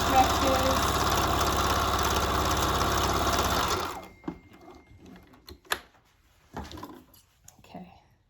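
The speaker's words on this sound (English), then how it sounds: "So you can use stretch material with a straight stitch sewing machine." A straight stitch sewing machine runs loud and steady while sewing stretch fabric for a button headband, then stops after about four seconds, leaving soft clicks and handling noises.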